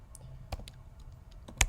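A computer keyboard is typed on in a quiet room: a handful of light, scattered key clicks, then one sharp, louder press of the enter key.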